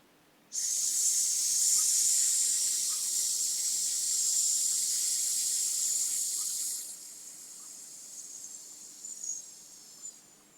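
A long, steady hissing exhalation imitates a snake as part of a lung-strengthening breathing exercise. A voice produces the sound close up, loud and continuous for about six seconds, then cuts off, followed by faint breathing noises.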